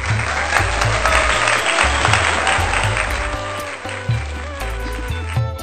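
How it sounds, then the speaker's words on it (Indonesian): An outdoor crowd at a village dangdut stage show in Muaro Jambi applauds a performer, a loud continuous wash of clapping with a heavy thumping music beat underneath. "Beri tepuk tangan yang meriah."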